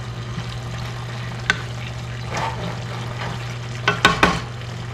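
Snow peas simmer in a pan with a soft, continuous bubbling hiss. A few sharp utensil taps come near the end, and there is no talking.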